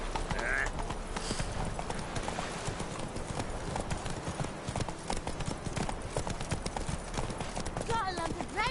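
Hooves of the horse Roach clip-clop in a steady trotting rhythm in Witcher 3, continuous and close, running under spoken voices throughout.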